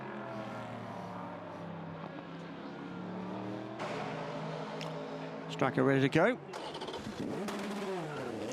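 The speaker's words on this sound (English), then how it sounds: "No fuss when you start up a racing engine anymore, is it? Starts first turn of the starter motor" A P1 prototype race car engine at the 6 Hours of Spa-Francorchamps fires on the first turn of the starter and revs sharply in short bursts, over steady engine drone and a commentator talking.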